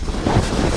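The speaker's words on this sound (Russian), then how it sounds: "Сегодня ветер северяк, минус 14 градусов." Cold northerly wind at minus 14 degrees on an Arctic shore, a brief steady rush of wind buffeting the microphone with a dull low roar.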